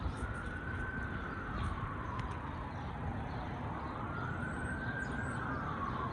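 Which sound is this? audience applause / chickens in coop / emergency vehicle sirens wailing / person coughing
emergency vehicle sirens wailing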